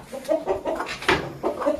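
Colombian Brahma chickens, roosters and hens, cluck in a quick series of short, close calls, a rhythmic run of soft clucks with one sharper squawk midway.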